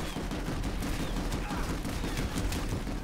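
Rapid, dense gunfire from a Planetside 2 battle rattles on for about three seconds, steady and fairly loud, with overlapping shots blending into a continuous clatter and faint voices in the mix.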